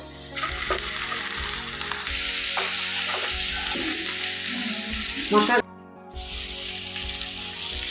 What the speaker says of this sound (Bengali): আলুটা ভাজা হয়ে গেছে, এবার আমি কপিগুলোকে ঢেলে দেব।